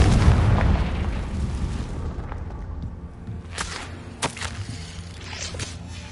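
Confringo fire spell from the Hogwarts Legacy video game, heard as a heavy booming blast up front that rumbles down, followed by a few sharp bursts and pops.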